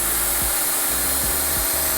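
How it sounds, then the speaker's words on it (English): A power drill bores pilot holes into wood before screws go in, giving steady whirring with rhythmic low thumps as the bit bites and pulls back, close and moderately loud. "then we will get you to pre-drill and put the screws in"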